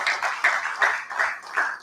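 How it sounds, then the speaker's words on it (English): Audience applause for a presenter at an annual in-house research review and planning meeting, a dense, steady patter of many hands clapping with slight surges, moderately close and filling the room, no talking. "Can we give him again a round of applause?"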